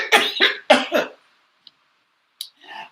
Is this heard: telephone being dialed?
no